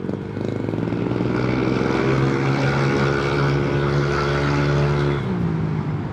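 Close, loud revving from a motorcycle wearing a TRC Racing powerpipe exhaust, holding a strong harmonic drone that climbs steadily in pitch, then drops off suddenly near the end; no voices over it.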